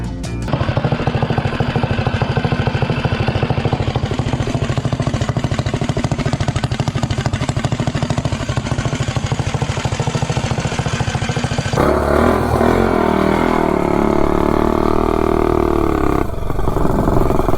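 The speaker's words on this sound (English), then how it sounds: "So I'll take this bike out for a 0 to 30 and top speed run with this setup" Small motorcycle fitted with a T225 engine and a swapped cylinder head, running hard on a 0-to-30 and top-speed run: a loud, steady close engine roar with rattling clatter, shifting in pitch near the end as revs change.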